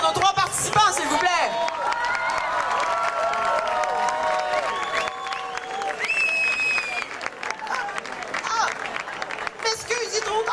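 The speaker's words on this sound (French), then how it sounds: "Une bonne main d'applaudissements pour nos 3 participants" A crowd at an Elvis impersonator contest applauds and cheers its three participants, continuous clapping with whoops and excited voices, and a few sustained shouts rising over the noise throughout.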